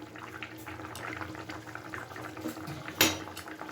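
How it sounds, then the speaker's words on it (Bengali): Mochar dhokar dalna, a banana-flower and lentil-cake curry, bubbles softly in a pot, with faint continuous simmering and occasional pops, plus one sharper clatter near the end. "2-3 মিনিট এটাকে ফুটিয়ে নামিয়ে নিতে হবে।"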